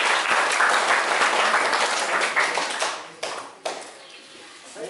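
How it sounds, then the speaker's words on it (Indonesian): Loud, dense applause from a school assembly crowd at a student council leadership training, steady and close for about three seconds before thinning into scattered claps and tapering off. "Tepuk tangan untuk kita semua."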